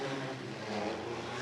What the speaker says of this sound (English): you hear the noise of 16 or thereabouts TCR cars